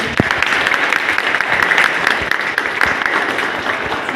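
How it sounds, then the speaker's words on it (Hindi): Loud, sustained audience applause for the head of the institute at an orientation program for a new batch at Global Skills Park, steady clapping without a break from start to finish. "तो सर के लिए जोरदार तालियां हो जाए"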